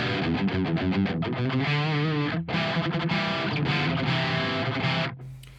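Distorted electric guitar played through an ENGL E530 preamp's lead channel with the contour switch off, into a Peavey 6505 power amp; steady chugging and sustained notes with one brief break midway, ending abruptly.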